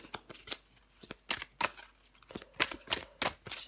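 Tarot cards being shuffled by hand, a run of crisp riffling and snapping bursts in an uneven rhythm, close and fairly quiet with no talk.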